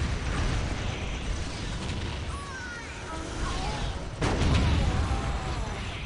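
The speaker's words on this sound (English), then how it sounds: "We'll lob artillery shells at this" Artillery shells bursting in the strategy game Dawn of War Soulstorm, a dense rumbling barrage with a sharp crash near the end amid mechanical clatter, loud and continuous, with faint voices underneath.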